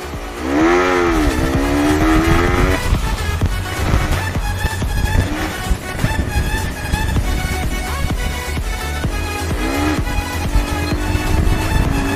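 A Yamaha RX-King two-stroke motorcycle with a standard original exhaust is revved hard and close. One rising and falling rev sweep comes first, then a steady, loud, raspy exhaust note runs throughout.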